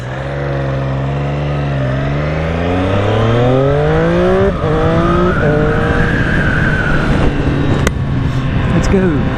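A 2021 Triumph Street Triple RS motorcycle engine revs up through the gears while being ridden on a warm day, its pitch climbing and falling in steady sweeps, loud and close.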